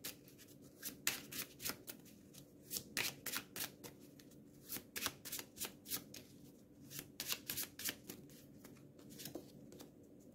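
A deck of cards being shuffled at the table during an Eldritch Horror board game, heard as repeated crisp riffling bursts and short card slaps in an irregular rhythm, close up with no talking.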